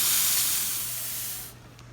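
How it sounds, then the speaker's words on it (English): A La Pavoni espresso machine's steam wand blasts a strong, steady hiss that tapers gradually and cuts off near the end, leaving a faint low hum. "Nice strong steam."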